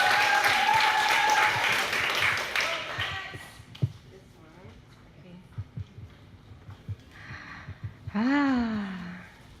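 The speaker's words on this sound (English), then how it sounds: "So a round of applause, please, to welcome Becky." A crowd claps to welcome a speaker at a Street of Clans 2019 creative talk in Singapore; the applause is fairly loud for about three seconds, then fades as a voice begins talking and scattered small sounds follow.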